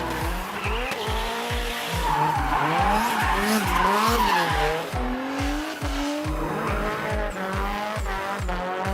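A drift car at a Las Vegas drift event screams through a long slide, engine bouncing off the limiter in a steady pulsing rhythm while tires squeal loudly and continuously, close and dominant throughout.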